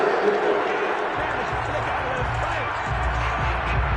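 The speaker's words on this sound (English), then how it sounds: "this crowd does not like that call" Football stadium crowd at an Alabama vs Ole Miss game reacting to a roughing-the-passer penalty call, a broad sustained rumble of crowd noise with scattered shouts, heard beneath a commentator talking throughout.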